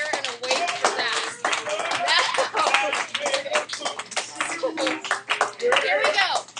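Students in an algebra classroom clap as a group, with loose uneven rhythm and individual claps standing out near and sharp, mixed with children's voices and chatter over the clapping.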